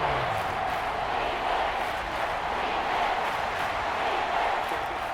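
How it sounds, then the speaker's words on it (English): The Arrowhead Stadium crowd roars in a Madden NFL game, a loud, steady wash of massed cheering and yelling that holds evenly throughout. "The Arrowhead crowd in full roar"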